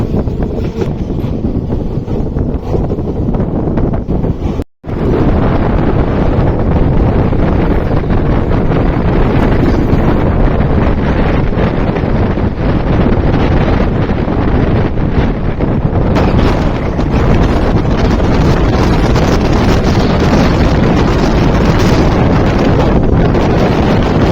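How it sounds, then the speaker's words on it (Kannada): Strong wind buffets a phone microphone held outside a moving express train, with a loud, continuous roar and rumble, briefly cutting out once before resuming unabated. "ಸಿಕ್ಕಾಪಟ್ಟೆ ಗಾಳಿ ಅದ ರೀ"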